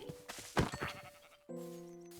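Sheep in Minecraft bleat twice in quick succession, a short wavering call followed by a steadier, tonal one, fairly quiet and with no talk over them.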